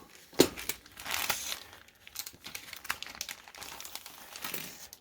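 Plastic model kit figure bags are cut and torn open up close, with quiet crinkling and crackling bursts in irregular clusters, the sharpest snap near the start.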